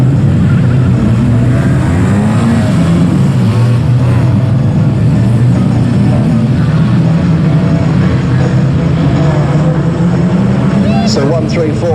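Race cars roaring at the start of the Polleysport Yokohama Tyres Series Grand Final at Aldershot Raceway, a loud continuous engine drone with shifting revs, under a commentator's voice.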